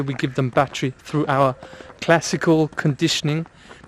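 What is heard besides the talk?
No everyday noises stand out.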